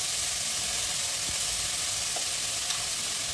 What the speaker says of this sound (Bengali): এতে আমি মাশরুমগুলো দিয়ে দেবো। এবার একটু নেড়ে চেড়ে